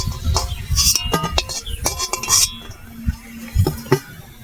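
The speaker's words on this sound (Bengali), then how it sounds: "আমি খুন্তি করে আস্তে আস্তে তুলে নিচ্ছি।" Fried ripe-mango barfi pieces lifted with a metal spatula onto a plate, giving a run of light clinks and scrapes of metal on metal and dishware, close up, with no talking.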